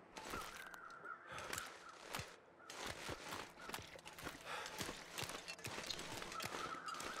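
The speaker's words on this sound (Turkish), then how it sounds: "Sağımdan karga sesi geliyor, oraya bak bence." Crows caw repeatedly in The Long Dark video game, sharp harsh calls scattered through a quiet snowy outdoor ambience, with soft crunching footsteps in between and no talking.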